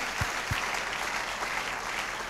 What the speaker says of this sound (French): Est-ce qu'on peut bien acclamer?